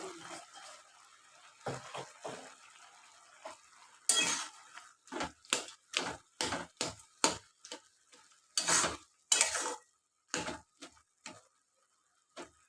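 A spoon stirring banana stem curry (thor ghonto) with potatoes in a pan, making close, rhythmic scraping and clinking strokes on metal, about a dozen in quick succession after a few quieter, softer ones.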